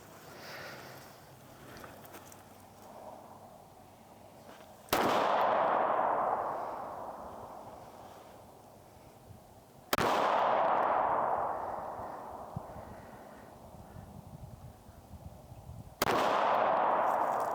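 Three sharp gunshots spaced roughly five to six seconds apart, fired on a range while zeroing a red dot sight, each a loud crack with a long fading tail and quiet waiting between shots.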